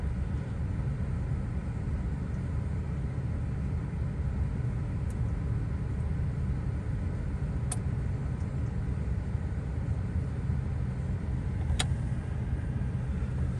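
A 2007 Chevrolet Silverado truck engine idles with a steady, low rumble that holds evenly throughout, with a few faint clicks on top and no talking.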